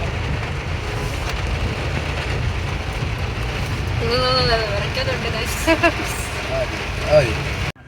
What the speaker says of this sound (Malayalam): ഇത്രയും മഴയൊക്കെ നനഞ്ഞു പോകുന്നുണ്ട്